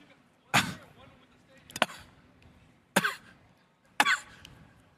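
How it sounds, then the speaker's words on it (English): A person coughs four separate times in sharp, harsh bursts spaced about a second apart, close and fairly loud against a quiet room background. "it was a lot of coughing"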